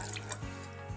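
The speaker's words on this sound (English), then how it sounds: "Now we're just gonna pour it right on top" A whisked brown sugar and honey sauce is poured over chicken in a crock pot, giving a brief, close, wet glugging splash.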